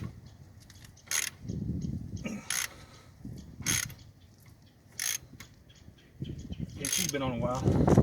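A ratchet with a T47 bit works the brake caliper bolts on a Ford Expedition. It gives several bursts of quick metallic clicking, with dull knocks and handling noise between them and faint talk near the end.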